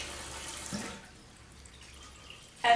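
Tap water runs briefly in a soft hissing stream, then shuts off, leaving near silence before a short clatter at the end.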